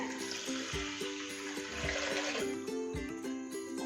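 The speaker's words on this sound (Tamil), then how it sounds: "நான் இதுக்கு 3 டம்ளர் அளவுக்கு தண்ணி சேர்த்துக்கிறேன்." Water being poured into a pot while making sweet pongal, a steady splashing pour heard close up, with a few clinks and knocks breaking through it.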